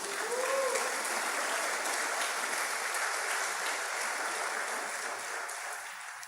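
Congregation clapping steadily through a church celebration service, a dense sustained applause that stays even and fairly distant before tapering slightly at the end.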